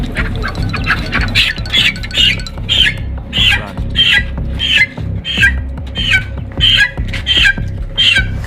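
A chicken squawks over and over in a steady rhythm, loud and close, harsh repeated calls of a bird being handed over, heard alone without talk.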